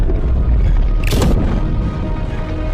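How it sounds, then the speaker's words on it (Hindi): A cannon fires at a dragon in a single sharp, heavy boom rising out of a low rumbling backdrop, followed by a lingering roll. "सैनिकों ने तुरंत तोप के गोले ड्रैगन की तरफ दागने शुरू किए।"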